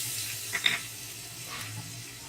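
Soft sizzling of ginger garlic paste frying in butter, fairly quiet, with a couple of brief clinks near the start.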